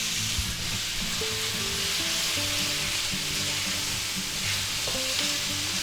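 Steady crackling sizzle of chicken and mushrooms frying in a pan with black pepper, with soft scraping and clinks of a spoon stirring throughout, close and continuous.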